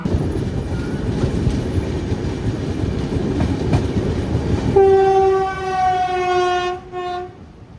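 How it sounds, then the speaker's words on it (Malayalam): A Bhopal-to-Indore train rumbles past a railway station with rattling wheels, then its horn sounds a long, loud, steady blast before fading out. "ഇപ്പൊ പോയത് ഭോപ്പാലിന് ഇൻഡോർ പോകുന്നൊരു വണ്ടിയാണ്"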